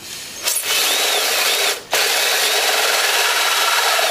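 A drill cuts into a cube enclosure with a harsh, continuous grinding whir, briefly cutting out around the two-second mark before resuming loud and close, no voices.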